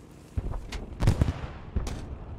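Three heavy booming tank cannon shots in the game Post Scriptum, each a sharp thump with a short rumbling tail, spaced about half a second apart.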